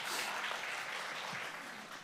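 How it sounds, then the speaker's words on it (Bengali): An audience claps for a correct answer at an Islamic quiz competition, a short, fairly faint wash of steady applause that tapers slightly toward the end. "তোমাদের জন্য করতালি"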